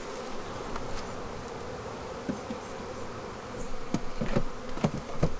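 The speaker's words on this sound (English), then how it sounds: "They're very active bees." Honey bees buzz steadily around an open hive during a frame inspection, a dense continuous hum with scattered sharper clicks and bumps from the hive equipment near the end.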